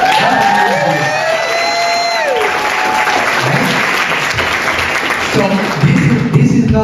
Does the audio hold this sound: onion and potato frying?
no